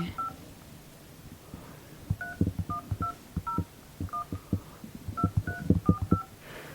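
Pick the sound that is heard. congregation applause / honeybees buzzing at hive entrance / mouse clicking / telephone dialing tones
telephone dialing tones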